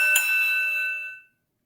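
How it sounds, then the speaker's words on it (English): A single loud bell strike rings out as a wrestling-show opening bell sound effect, its bright metallic tones ringing on and decaying smoothly to silence over about a second, with no voices. "Let's hit that opening bell, Kevin."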